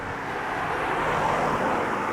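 Steady road traffic noise in the New Forest, a constant broadband rumble and hiss of passing vehicles with no break or single pass standing out, fairly loud throughout.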